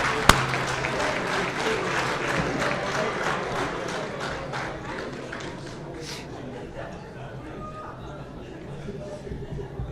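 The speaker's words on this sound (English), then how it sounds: "Get one more round of applause for Dr." Audience applause at the LBCC Hall of Champions ceremony for Dr. Grant Uba, a steady dense roar of clapping from a large crowd that tapers slightly toward the end, with voices mixed in.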